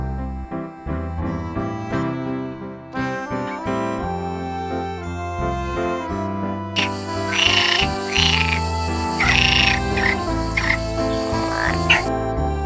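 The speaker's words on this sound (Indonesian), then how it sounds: "katak" Croaking of a toy frog from an animal toy collection: a series of raspy, pulsing croaks that start partway through and repeat over steady cheerful background music.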